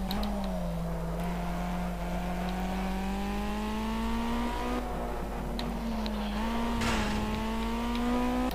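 A race car engine in the Project CARS video game holds a loud, steady whining note that climbs slowly as the car laps the track, with short dips where the revs change.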